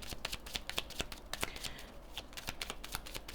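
Playing cards being shuffled close by, a soft steady riffle of quick flicks and snaps running throughout at low volume.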